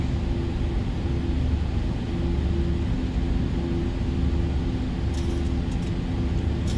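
Boeing 737-800 jet engines spooling up toward climb power in a flight simulator, a steady, loud, broadband roar and rumble that holds evenly throughout with no voices.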